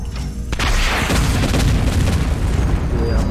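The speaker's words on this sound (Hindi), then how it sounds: "ये हमने टैंक को उड़ा दिया है" A tank blows up in the Project IGI shooter game, a heavy booming explosion followed by a loud rumbling roar that rolls on for a few seconds.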